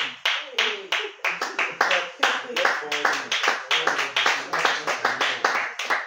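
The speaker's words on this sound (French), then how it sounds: "Clap for him, clap for him." Audience clapping in a hall during a French-language church teaching session, a loose, uneven burst of many hands with distinct slaps and some voices mixed in.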